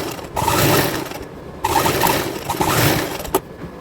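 Sewing machine stitches a kurti neckline in bursts, a loud rattling mechanical hum that stops briefly, restarts, and ends with a sharp click.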